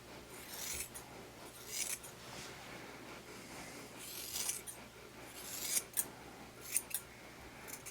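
Scissors snip through a dog's head fur during grooming, quiet close metallic clips arriving in short irregular bursts over a faint background hum.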